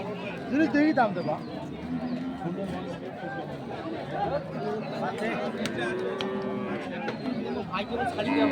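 Dairy cows and calves, including Sahiwal, Sindhi and local breeds, at Ambari cattle market, lowing now and then amid a busy crowd murmur while people talk nearby.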